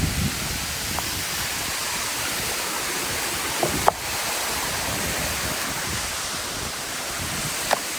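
Khun Mae Wei waterfall in Tak province, Thailand, pours in a constant broadband rush, loud and close, with a few faint clicks and knocks from nearby movement and no talking.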